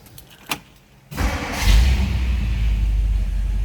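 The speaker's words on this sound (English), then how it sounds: "Let's go ahead and start this car up." A 1958 Ford Fairlane 500 Skyliner V8 starts after a click and brief quiet: the starter cranks, the engine catches and settles into a loud, steady low rumbling idle close by.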